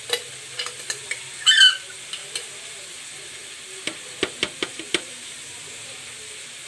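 Burger sauce being stirred together with mayonnaise in a bowl, producing a string of soft, close clicking and scraping taps with a brief wetter squelch partway through, over a quiet background.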